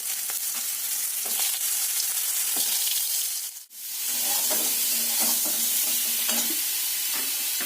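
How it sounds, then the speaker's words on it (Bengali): Pointed gourd (potol) fries in oil in a pan, a close, steady sizzle with intermittent scraping and stirring clatter, briefly dropping out midway before resuming. "এর আগে পটলগুলো ভেজে নিই"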